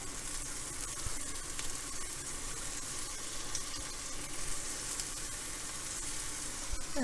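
Redfish and shrimp browning in a hot pan give a soft, steady sizzle throughout, with a few faint clinks near the end and no talking.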